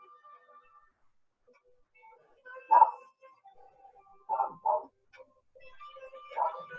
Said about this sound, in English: Ignore the barking.